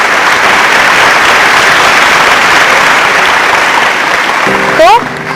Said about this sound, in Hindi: जरा तालियां हो जाए हमारे साथ के लिए।